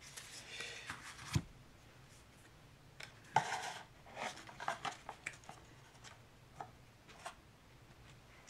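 Magic: The Gathering cards being shuffled by hand on a table, scattered soft riffles and sharp taps coming in irregular bursts, close and fairly quiet, with no talk.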